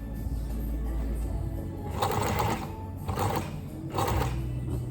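Sewing machine back-stitching a fabric scrunchie, a steady mechanical whir with three louder bursts of stitching spaced about a second apart, close and with no talk.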